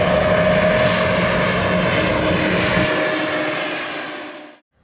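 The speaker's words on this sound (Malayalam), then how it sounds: "നമുക്ക് ശ്രീലങ്കൻ എയർവേസിൻ്റെ ഫ്ലൈറ്റാണ് ബാംഗ്ലൂർ ടു കൊളംബോ" Steady, loud engine drone fills the cabin of a Sri Lankan Airlines plane flying from Bangalore to Colombo, a continuous roar that fades out at the end.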